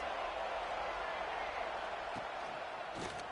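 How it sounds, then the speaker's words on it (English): A packed stadium crowd in the College Football 26 video game roars in a steady, dense wash of cheering that fills the whole moment, with a few sharper bursts near the end. "Listen to this crowd just shaking the girders of this place, trying to help their defense."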